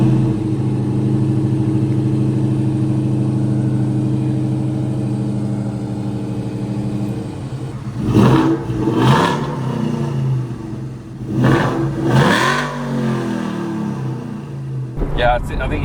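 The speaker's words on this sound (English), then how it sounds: "The exhaust sounds great." A New Edge Mustang with a swapped Coyote V8 and Flowmaster mufflers idles with a low rumble, then revs twice in short, loud bursts before settling again.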